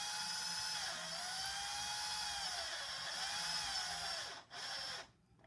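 A power drill drives bolts into a plastic kids' kayak paddle, giving a steady, close whine with repeated pitch dips as the bolts seat. It cuts out briefly, runs again and then stops near the end.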